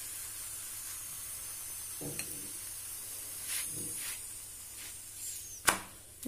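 Paneer paratha sizzling in oil on a griddle over medium heat: a continuous soft hiss with a few sharper crackles and one louder spatter near the end, with no talk.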